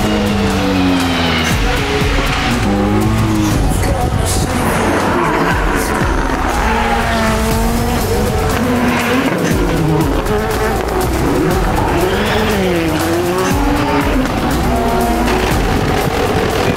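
A rebuilt Volkswagen Polo drives hard on a racing circuit, its engine loud and varying in pitch while tires squeal and skid repeatedly, with music playing underneath throughout.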